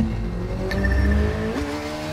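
Kawasaki Z1000 motorcycle engine in The Crew 2 video game, revving steadily and loudly up close, with a pitch rise partway through and a brief squeal-like tone, no talking.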